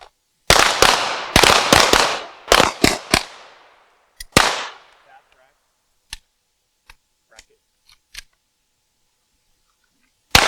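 Handgun shots at an outdoor shooting range ring out in a rapid string of loud, sharp cracks, followed by a few single, fainter shots spaced seconds apart, each with a short decaying tail.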